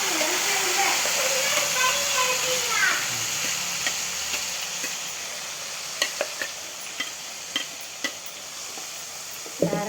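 A thick ground paste bubbles and sizzles in a pan after mustard seeds splutter, with a few soft clinks and a voice speaking briefly at the start.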